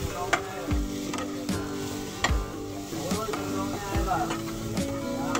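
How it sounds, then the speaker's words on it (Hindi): Food is being sautéed with spices in a pan, giving a steady sizzle broken by several sharp scrapes and knocks of a spoon against the pan. "मैं इसे अच्छे से भून लूँगी"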